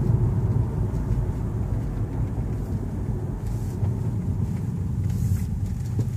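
Steady low road rumble heard from inside a 2015 Jaguar XF as it drives over a bump, a dense continuous drone with no distinct jolt standing out.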